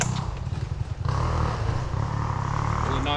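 The engine of a 2025 Honda CRF250R dirt bike tries to start, with a close, steady, buzzing low rumble and some clattering. Voices talk over it.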